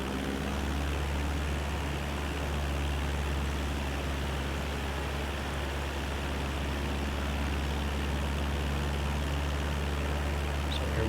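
Aircraft engine in Microsoft Flight Simulator 2020 running at steadily rising power, a constant loud low drone with a deep hum underneath, unbroken and with no voices.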